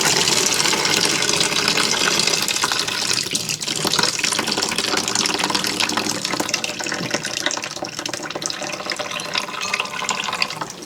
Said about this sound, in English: I'm going to drain the noodles in the sink.